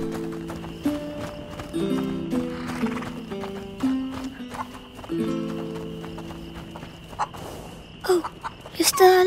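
A horse in the video game A Plague Tale: Innocence whinnies and snorts with a few scattered hoof knocks, fairly close, over a steady low game ambience and a sustained music drone, ending in a sharper burst of movement.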